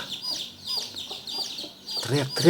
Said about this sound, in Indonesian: sementara ayam ini terus teriak-teriak